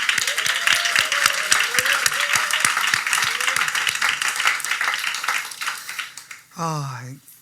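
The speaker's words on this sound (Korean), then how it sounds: "이 시간을 허락하신 하나님께 영광의 박수 한번 올려드립시다." A church congregation claps together for several seconds during a Sukkot service, the applause loud and close with voices and a cheer rising over it, fading out before a short sung or spoken vocal phrase at the end.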